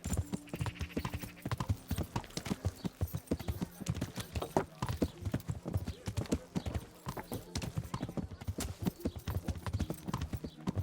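Horse hooves clip-clop in a steady, close rhythm while riding in Kingdom Come: Deliverance, the clopping dense and continuous with occasional snorts and light background voices underneath.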